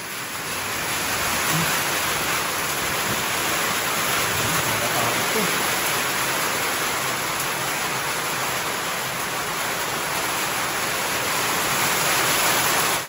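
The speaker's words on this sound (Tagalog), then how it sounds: "Grabe yung ulan no." Heavy rain pours down steadily in a dense, unbroken hiss that stays loud and even throughout, with no voices over it.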